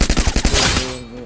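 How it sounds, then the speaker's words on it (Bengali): Rapid bursts of mini UZI gunfire in the Free Fire battle royale game, a loud fast rattling string of shots that trails off into a short ringing tail. "মিনি ইউজি দিয়ে আমরা কিন্তু মেরে দিচ্ছি"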